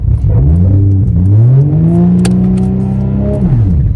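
Nissan Skyline R33 with racing coilovers revving while driving, the engine note climbing and falling in a few clear sweeps, loud and close from inside the car with no talking.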